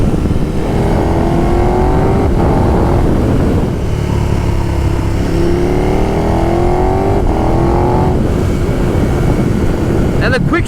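$30,000 motorcycle with a quick shifter accelerating hard, a loud close engine note climbing through several rapid gear changes with brief dips between rising pulls, steady wind and road roar underneath.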